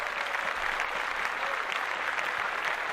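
Steady applause from a crowd on a podcast, a dense, even wash of clapping that holds at the same level for about three seconds with no talking over it.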